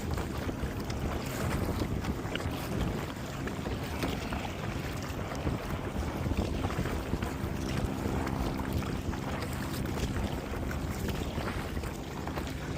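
Choppy water from a passing boat's wake slaps around a kayak at Twin Waters, Queensland, heard as irregular sloshing under heavy, constant wind buffeting on the microphone.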